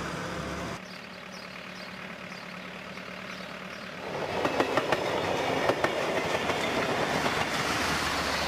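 A private diesel railcar runs on tracks in Romania in 2004, starting as a low distant rumble before swelling into loud, close rhythmic clattering and engine roar.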